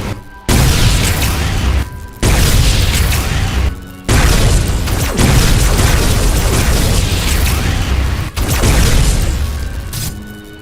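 Charged gun shots explode in Minecraft with loud, sustained blasts, several long roaring bursts separated by brief gaps of near silence, each blast crackling and booming for a second or more.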